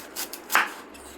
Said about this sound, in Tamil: ஃபஸ்ட்டு ரவுண்ட் ரவுண்டாக இப்படி கட் பண்ணிக்கிறணும்